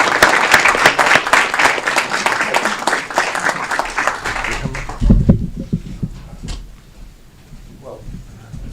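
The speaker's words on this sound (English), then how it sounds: "If we can give a round of applause for Congressman Bill Foster." Audience applause for Congressman Bill Foster at an Aurora City Council meeting, a dense, loud burst of crowd clapping that tapers off after about five seconds into quieter room sounds and shuffling.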